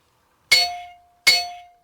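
Two loud metallic clangs on a homemade anvil with its screw tightened, each a sharp metal-on-metal strike ringing out and fading, spaced under a second apart.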